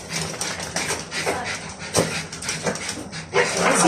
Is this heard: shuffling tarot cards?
no